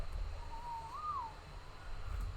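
Snow owl in the video game Ark Survival Evolved Extinction gives a single soft, wavering hoot over a low ambient hum, faint and somewhat distant.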